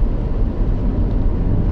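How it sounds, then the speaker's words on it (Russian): A freight train rolls past at close range during a road trip in northern Russia, producing a loud, steady, broadband rumble throughout with no voices. "Товарняк."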